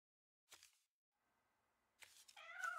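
A house cat gives a few short, quiet meows with pauses between them, heard alone in a quiet room.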